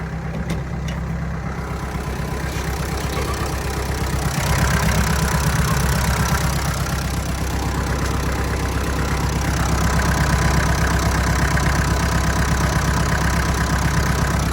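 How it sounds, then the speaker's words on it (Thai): A Kubota L4508 farm tractor's diesel engine idles close by, a loud, steady, smooth rumble with an even chugging pulse that runs throughout, with no voices. "เครื่องไม่มีไอนะครับ ถ้ามีไอมันจะมีควันขาวๆออกมาแล้วครับ เครื่องนิ่มๆเลยนะครับ"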